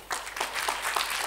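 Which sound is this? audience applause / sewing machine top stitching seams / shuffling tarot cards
audience applause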